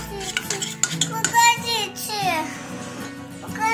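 A spoon scrapes and clinks around inside a pot in quick, uneven strokes as a starch mixture is stirred for a meringue roll filling, with a person talking over the stirring.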